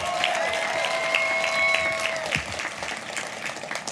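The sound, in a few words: graduates applauding at commencement ceremony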